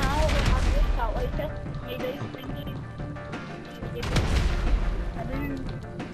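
Gunfire in a deathmatch video game, sharp cracks and crashing impacts scattered over busy game noise, with someone talking throughout.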